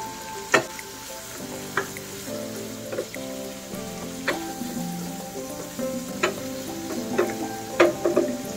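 Shrimp fry in a hot pan while cooking chop suey, giving a continuous close sizzle with scattered sharp pops and occasional utensil clinks.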